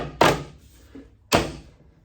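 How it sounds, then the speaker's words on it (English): A flat-pack bartop arcade cabinet panel is knocked into its slats with two sharp, solid thunks about a second apart, close and clear against quiet. "Once you can see that you have a few pieces in line with the slats, give it a little tap"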